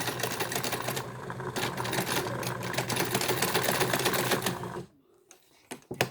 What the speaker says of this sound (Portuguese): E começa a minha costura.